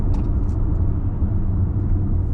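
A Mercedes GLA SUV drives on a circuit, giving a steady low engine and road rumble that stays loud and even throughout, with no voices over it.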